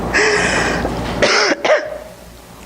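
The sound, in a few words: cough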